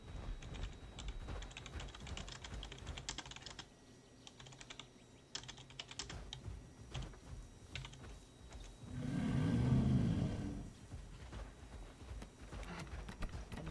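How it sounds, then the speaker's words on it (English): Someone types on a computer keyboard during a gaming session, producing close, continuous rapid key clicks in irregular bursts. A brief low rumble swells midway, and no one speaks. "Where's my typing? I wanna type."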